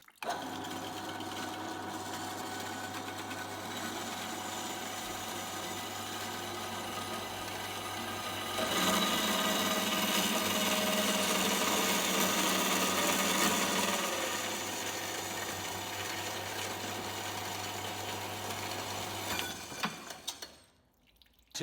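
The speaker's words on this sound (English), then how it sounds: "let's chop up some steel and get on with it" A saw with gravity-fed blade coolant cuts through steel in a continuous, steady mechanical whir that grows louder and harsher partway through the cut, then settles before stopping abruptly at the end.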